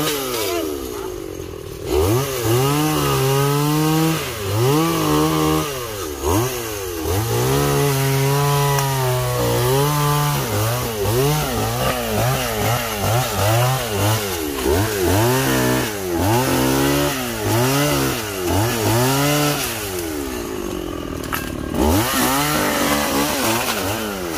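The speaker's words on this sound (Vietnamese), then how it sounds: "Giờ sẽ cưa lấy cổ hủ nha các bạn." A chainsaw roars continuously while cutting a large tree trunk, its engine pitch rising and dipping as it bites into wood, loud and close throughout.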